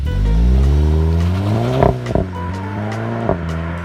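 Stock-exhaust Volkswagen GTI engine revving hard, a loud close rising drone that climbs and falls through several blips, with sharp gear-change dips near the middle.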